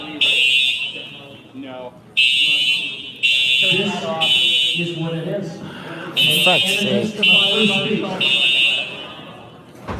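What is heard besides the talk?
building fire alarm sounding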